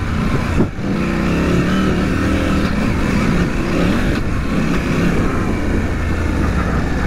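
A KTM 790 Adventure motorcycle accelerates along a muddy off-road trail, its engine droning loud and steady throughout with a brief dip early on, heard close up.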